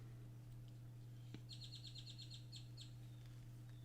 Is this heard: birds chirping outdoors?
yes